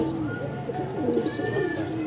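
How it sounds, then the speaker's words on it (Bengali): Domestic pigeons coo in soft, repeated throaty calls nearby, with faint chirps layered over a low background murmur. "সবগুলো কবুতরই সুন্দর মাশাল্লাহ"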